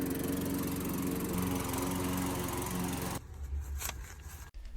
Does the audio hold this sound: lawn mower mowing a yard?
yes